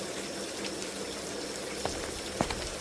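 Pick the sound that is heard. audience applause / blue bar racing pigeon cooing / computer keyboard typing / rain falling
rain falling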